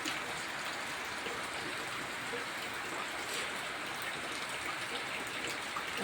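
Steady rain pouring down at a temple whose floor floods with leaks, a constant hissing wash that stays even and moderately close, with no clear voices.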